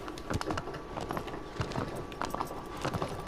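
Horse hooves clip-clop in a steady, uneven run across the ground in Shadow of the Colossus, the thudding beats fairly close and continuous with faint bird sounds around them.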